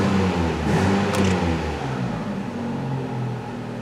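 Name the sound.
Hyundai Elantra engine idling at too high RPM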